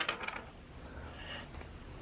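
Small dice rolled and clattering onto a board game board, a couple of quick hard rattles at the start settling into a quiet tabletop tumble, close and fairly soft.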